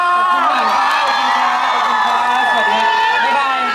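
A large crowd screams and cheers loudly and continuously at a stage concert at a carnival fun fair, shrill voices overlapping in a sustained roar that fades slightly at the end.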